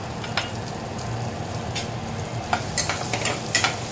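Onion, ginger and garlic frying in a pan just used for paneer, a steady close sizzle with scattered stirring scrapes and crackles growing busier toward the end.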